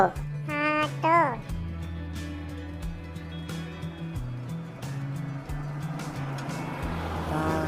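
An animated auto rickshaw putters along with a steady, stepping low engine drone, while a voice speaks briefly at the start with rising, wavering tones.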